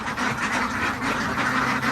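Many young female ducks for sale quack together in a noisy, continuous chorus, close by and loud, with overlapping calls throughout.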